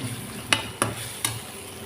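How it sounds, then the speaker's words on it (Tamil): Chicken frying in a pan with onion, tomato and ginger-garlic paste, a steady close sizzle broken by three sharp scrapes of a spoon stirring. "நல்லா வதக்கிக்கலாம்."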